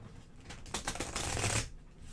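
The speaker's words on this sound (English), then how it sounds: "That was a decent shuffle." Small event cards for the ISS Vanguard board game being shuffled by hand, a close, crisp riffle of rapid papery flicks that builds to a dense burst and then stops.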